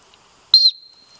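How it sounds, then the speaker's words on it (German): A small whistle on a survival tool gives one short, sharp, shrill blast outdoors, close and loud, then a thin lingering tone fades out against near silence. "Pfeiferl"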